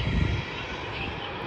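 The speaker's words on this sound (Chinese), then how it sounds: "来，咱听一下发动机的轰鸣声" An Airbus A320's jet engines roar steadily and loudly during the takeoff roll on the runway, heard from inside the cabin as a dense, continuous rumble.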